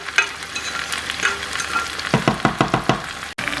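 Chicken sizzling and frying in a masala in a pan, a loud close hiss with a quick run of stirring scrapes toward the end, with no one talking.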